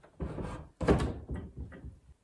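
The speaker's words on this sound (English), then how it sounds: "when you open the door" A small door on a carved antique cabinet in a French chateau swings open with a short thunk, framed by a few soft bumps and rattles nearby, with no talk over it.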